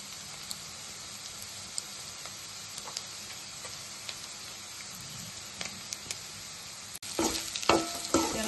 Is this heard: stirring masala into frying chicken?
yes